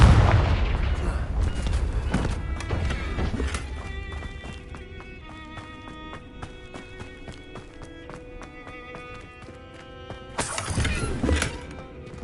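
The blasting curse Confringo is cast in the Hogwarts Legacy video game, sharp explosive bursts at the start and again near the end, with quieter tonal rumbling between them.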